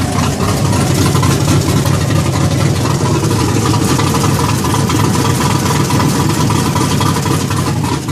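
A 6.0 Pontiac GTO with upgraded heads, cam and intake idles on a cold start with its exhaust cutouts open, giving a continuous, loud, rough rumble throughout.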